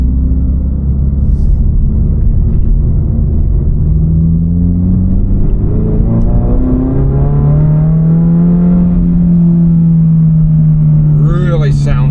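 A Toyota GR86/Subaru BRZ fitted with an AWE Touring exhaust pulls away in traffic on a highway, its loud, close engine drone rising steadily in pitch as it accelerates from inside the cabin.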